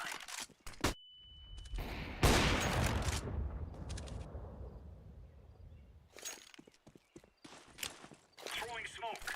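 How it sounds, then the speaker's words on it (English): A flashbang grenade goes off in a Counter-Strike pro match, a sudden loud burst ringing out and decaying over a few seconds, set among gunfire cracks, footsteps and a player's voice. "Throwing flashbang"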